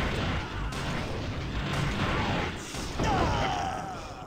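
Grenade blasts in the video game Armed & Dangerous, a dense, continuous rumble of booms and bursts with a sharper burst about three seconds in, loud and filling the whole stretch.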